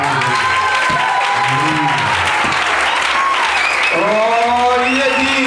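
A church congregation claps and cheers in praise of Jesus, a dense, steady burst of applause that runs throughout, with voices rising and singing over it.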